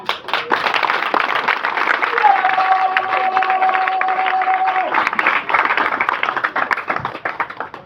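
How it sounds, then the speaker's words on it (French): Political party audience at a women's month closing event clapping loudly and close, uneven sharp hand claps with crowd noise and a steady tone running through part of it. "je vous demande de l'applaudir"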